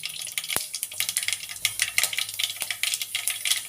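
Fenugreek seeds tossed into hot cooking oil give a steady, crackling sizzle with quick spattering pops and a few sharp clinks of a utensil against the pan.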